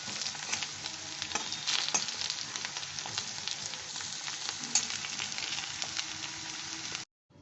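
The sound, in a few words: flour-coated eggplant pieces frying in oil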